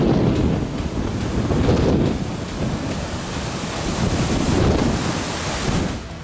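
Ocean waves in the Bermuda Triangle roll and crash in a steady, loud wash of surf, swelling in broad surges over a constant roar with wind rumbling into the microphone.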